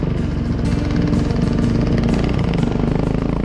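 An enduro motorcycle's engine rumbles loudly and steadily at close range on a ride toward Kārsava, a continuous throaty drone with slight revving and no voices.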